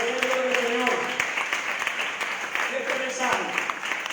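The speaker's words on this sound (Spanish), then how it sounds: "Dale un aplauso al Rey de Reyes." Worshippers at a Spanish-language church service applaud, steady clapping mixed with voices and shouts, a preacher's voice audible over the noise throughout.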